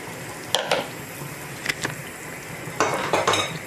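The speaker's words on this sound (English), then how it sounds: "Let me stir." A utensil scrapes and clinks against a cooking pot while fish in olive oil is stirred, several short bursts of scraping over a low background sizzle, close by and without talk.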